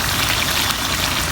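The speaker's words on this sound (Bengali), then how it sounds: "কষানো হয়েছে, এখন অল্প একটু পানি দিয়ে দেবো" Water pouring into a pan of browned chicken curry, a continuous close splashing rush with a bright, even hiss for the whole moment.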